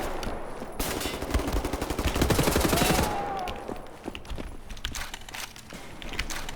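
Rapid video game gunfire from Wolfenstein: The New Order, set in an asylum, plays as a dense automatic burst that peaks mid-clip, then trails off into scattered shots and game noise.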